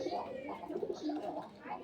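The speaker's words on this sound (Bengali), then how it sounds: "কবুতরের ফার্মে।" Pigeons coo in a pigeon farm, a soft, low, rolling murmur that continues steadily through the short stretch at moderate closeness, with faint voice-like sounds mixed in.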